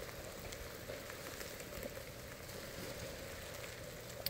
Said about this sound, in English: So all this rain we're getting is adding more ice to the half an inch or a quarter of an inch we already had